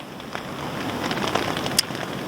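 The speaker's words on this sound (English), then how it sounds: "Bit windy, bit rainy still." Rain and wind beating on a tent during wet-weather wild camping in the UK, a steady close patter of drops on fabric with gusty hiss and one sharper tap.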